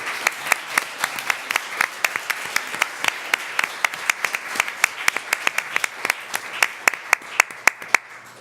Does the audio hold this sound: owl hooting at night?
no